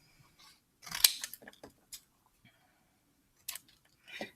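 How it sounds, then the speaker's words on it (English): Scissors snipping paper to make game pieces for a board game, a quiet close series of crisp cuts in short bursts separated by near silence. "And then maybe I'll cut a triangle."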